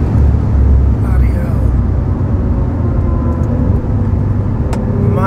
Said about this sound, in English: that was flat out accelerating out of a corner, and it has so much grip